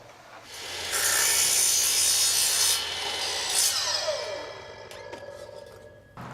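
A hand saw rasps through a wooden stair tread, cutting it to length for a Liberty Stair bracket fitting, with sustained close strokes that rise, hold for several seconds, then taper off into a few faint taps.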